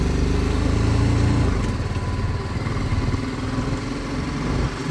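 A BMW motorcycle engine runs at a steady, loud idle-like drone with a constant rumble throughout, close by, on a bike ride to Muktinath.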